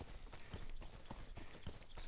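A horse in the survival game Deadside clip-clops in a quick, regular rhythm of hoof strikes, faint and close.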